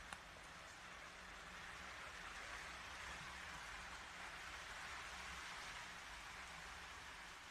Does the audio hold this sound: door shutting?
no